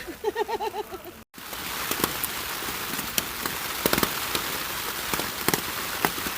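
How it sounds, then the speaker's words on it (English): Rain patters on a tarp stretched over a hammock in the woods along the Appalachian Trail, a steady close hiss with scattered louder drops after a short burst of chirping beforehand. "I just wanted to show what it sounded like in my hammock under the tarp when it was raining"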